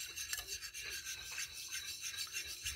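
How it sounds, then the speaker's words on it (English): A whisk works through a mixture in a bowl, a fast, steady rhythmic scraping and rubbing that repeats closely and quietly without any talk. "Use my whisk and then blend all this up."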